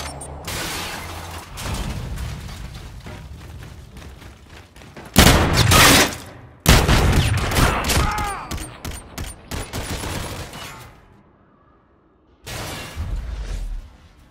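Gunfire in the video game Call of Duty: Infinite Warfare comes in loud, dense bursts of rapid shots, separated by short gaps and a quieter lull near the end before a final volley.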